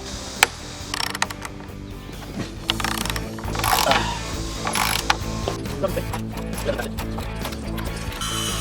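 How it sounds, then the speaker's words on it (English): A hand ratchet tightens fasteners on floor joists, giving rapid bursts of close, sharp clicking pawl sounds in repeated strokes with short pauses between, no voices. "I need to hand tighten them with this ratchet"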